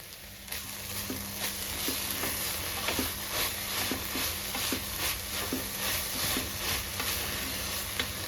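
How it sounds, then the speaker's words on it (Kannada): Food roasting in a pan for kayi palya while being stirred: a steady sizzle and hiss under a regular rhythm of soft scraping ticks from a spoon, close and moderately loud. "ಈ ಥರ ಅವಾಗವಾಗ ತಿರುಗ್ತಾ ಇರಬೇಕು"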